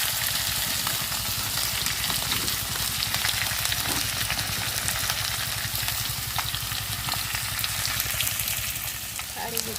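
Ridge gourd (taruli) frying in hot oil with a little sugar, a steady close hiss and crackle of sizzling that runs unbroken throughout.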